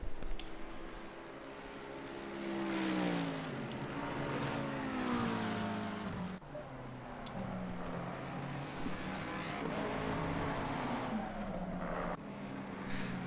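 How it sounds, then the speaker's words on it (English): Mercedes AMG race car on the Nordschleife at night, engine droning loud and close with rising and falling harmonic sweeps as it downshifts, steady roar throughout with a brief dip midway. "Bang, bang, shifting down in the Mercedes"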